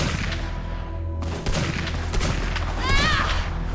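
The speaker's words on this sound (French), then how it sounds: "la puissance de tir de cette arme" Weapon gunfire in the Fallout The Frontier video game: rapid bursts of loud shots over dense game ambience, with a sharp rise in intensity partway through and a whistling effect near the end.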